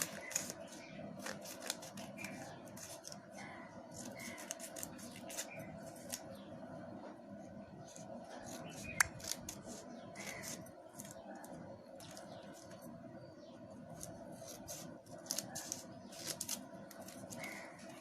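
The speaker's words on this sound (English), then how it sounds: "Start cutting small pieces." Scissors snip repeatedly through folded paper, cutting it into small pieces in a classroom craft activity; quiet, irregular crisp clicks and rustles close by, with faint background chatter.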